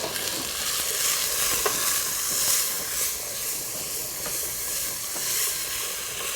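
Chickpeas fry with spices, turmeric and salt in a pan, giving a dense, steady sizzle and hiss with faint stirring scrapes layered through it, close and continuous, with no voices.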